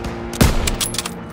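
Gunfire in the Call of Duty WWII Stronghold mission, one loud close shot followed by a scatter of quicker, fainter bursts in a busy battle mix.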